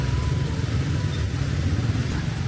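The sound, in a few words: oncoming road traffic in Vietnam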